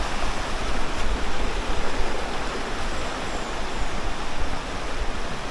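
A clear, clean river in a nature spot near Gracos Downhill Resort, Sta. Cruz, Murcia, Negros Occidental, rushing in a steady broadband roar, close and continuous, with no voices.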